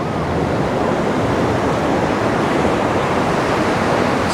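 Steady, loud roar of ocean surf rolling onto a busy beach at Seminyak, Bali, a continuous wash of breaking waves with no voices standing out.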